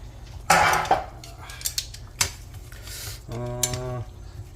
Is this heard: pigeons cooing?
no